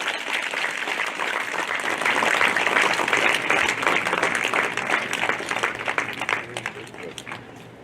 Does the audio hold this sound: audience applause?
yes